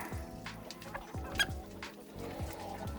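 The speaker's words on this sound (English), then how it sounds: "One of them's making a weird chirp noise." Young chicks cheep and peep in soft, scattered bursts at feeding time, a busy flock chirping close by with no talking, one making an odd chirp.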